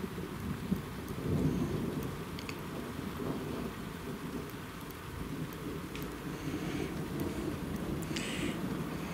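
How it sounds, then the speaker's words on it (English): Thunder rumbles low and distant beneath steady rain during a midnight thunderstorm over a village, the rumble swelling briefly near the start under a continuous wash of rainfall. "we got a bit of thunder with this one."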